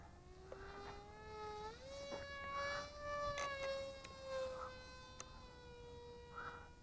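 A ZOHD Orbit FPV RC airplane's electric motor whines high and steady as it climbs, the pitch rising then holding, with a faint, distant buzzing quality and no voices.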